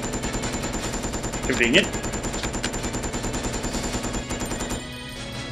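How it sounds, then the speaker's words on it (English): Rapid gunfire from Resident Evil Code: Veronica crackles in a dense, continuous burst of shots lasting several seconds, then cuts off; a voice speaks briefly over it. "you're just wasting all your ammunition on trying to hit one person"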